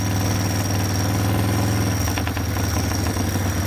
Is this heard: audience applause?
no